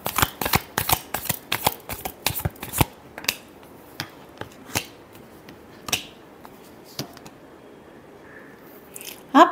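Tarot cards shuffled by hand, a rapid run of sharp crisp riffling snaps at first, then slower scattered flicks and taps, close and fairly loud.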